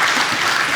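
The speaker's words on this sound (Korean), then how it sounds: "우리 다시 한번 격려의 박수 한번 해주시죠" Church congregation clapping in encouragement during a Holy Week early-morning prayer service, a loud, dense burst of applause filling the room with no voices over it.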